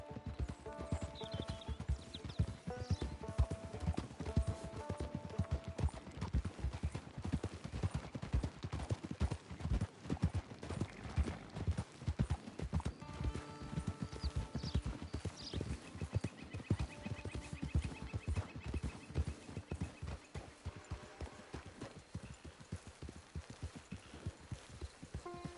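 Horse hooves clip-clop steadily and close for a long stretch in Red Dead Redemption 2, a brisk continuous rhythm with occasional whinnies and faint gunfire in the background.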